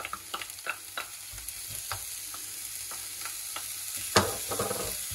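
Garlic and ginger fry with onions in a pan for an aubergine and cherry tomato confit, giving a steady hiss punctuated by light spoon taps and scrapes, with a louder clatter near the end.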